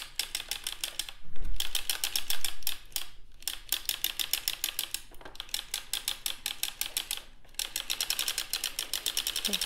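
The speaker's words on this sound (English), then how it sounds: "we're going to crank the first row slowly." A hand-cranked sock knitting machine clatters through its first rows, rapid rhythmic needle clicks in steady bursts separated by brief pauses, close and loud.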